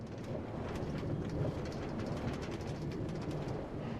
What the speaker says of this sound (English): This is what a Minecraft rail sounds like.